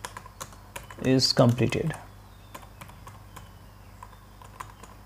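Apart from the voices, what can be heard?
typing on a computer keyboard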